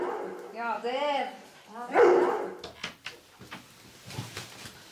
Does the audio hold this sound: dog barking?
yes